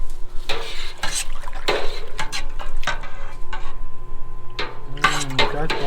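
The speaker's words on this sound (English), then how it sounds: "Let's stir that real quick. Can't go wrong with a spoon." A spoon stirs sugary wort for a Christmas beer in a brewing pot, producing loud scraping and knocking strokes against the metal at an uneven rhythm over a low steady hum.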